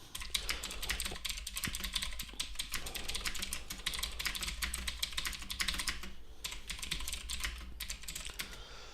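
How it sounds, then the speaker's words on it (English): Close, steady clatter of a computer keyboard as code is typed, the keystrokes running in a continuous rapid stream with brief pauses, and no voices. "we're going to start typing some code"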